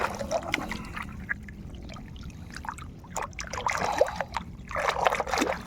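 Water runs and trickles steadily during washing, with splashes and sloshing that swell louder toward the end. No one speaks.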